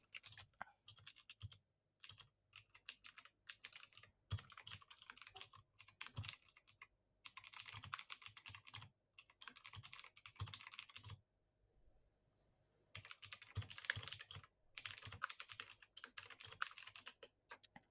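Someone types on a computer keyboard in quick, clattering bursts of keystrokes, close and fairly quiet, with a few short pauses between runs.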